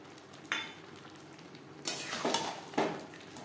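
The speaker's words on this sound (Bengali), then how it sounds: "টক দই আলু পটল ও মশলার সাথে বেশ ভালো করে মিক্সড করে দেব।" Potato and pointed gourd curry with sour curd is stirred in a pan over a low gas flame. Three separate scraping strokes land over a soft, steady sizzle, and no one speaks.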